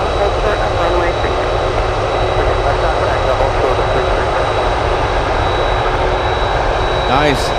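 Boeing 747 jet engines at Anchorage airport give a loud, continuous broadband roar that holds steady from start to finish, close at hand.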